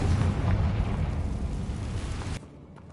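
A Confringo fire spell blasts in Hogwarts Legacy on PS5: a loud, close, broadband roaring explosion that rumbles on for over two seconds before cutting off abruptly.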